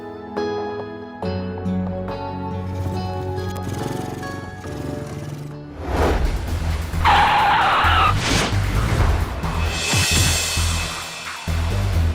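A car skids with screeching tires, a loud tearing squeal rising out of engine and road noise over several seconds, with no talking during it.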